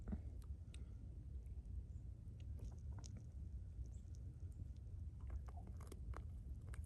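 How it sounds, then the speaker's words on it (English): Faint, irregular crunching and scraping of a spadefoot toad digging backward with its spades against rocks, scattered over a steady low background rumble. "You can hear those spades kind of crunching against the rocks behind them."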